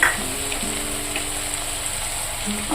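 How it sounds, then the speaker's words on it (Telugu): Brinjal and bottle gourd pieces frying in a pan for a dal curry, giving a close, steady sizzle with soft crackles throughout the short stretch and no talking over it. "అన్నీ కూడా మనం త్రీ మినిట్స్ కొంచెం వీటిని వేగనిద్దాము"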